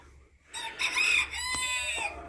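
Chickens in a hen house laying room give a short burst of close, loud clucking and squawking calls against quiet surroundings.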